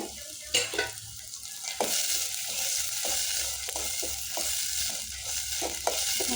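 Semolina upma ingredients fry in a hot pan in a home kitchen, with a steady close sizzle and sharp scraping stir strokes at irregular intervals throughout. No one speaks.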